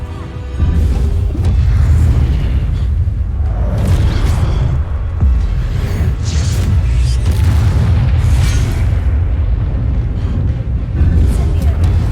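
Incendio fire spell cast in the Hogwarts Legacy video game during a dungeon fight, producing loud, repeated fiery booms and whooshing bursts over twelve seconds, with a voice speaking at times underneath.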